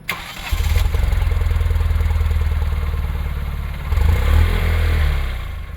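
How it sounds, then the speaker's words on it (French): A Fiat 500 with the 0.9-litre 85 hp TwinAir two-cylinder engine cranks and fires, then settles into a loud, close, pulsing throb with a distinctive uneven beat that swells briefly near the end. "L'une des caractéristiques des moteurs bicylindres est leur sonorité très particulière."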